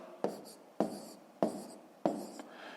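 Pen or chalk strokes writing out numbers by hand for a long division problem, four sharp scratchy bursts spaced about half a second apart, each fading quickly, close and alone with no talk.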